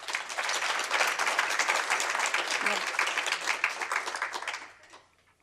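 Audience applause fills a graduation and recognition ceremony for a leadership institute: dense, sustained clapping from many hands, steady and loud, then tapering off quickly near the end.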